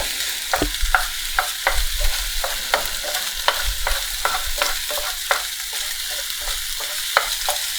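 Omelette eggs stirred in a frying pan over a gas flame, a steady near sizzle broken by repeated scraping strokes of the utensil against the pan at an irregular rhythm.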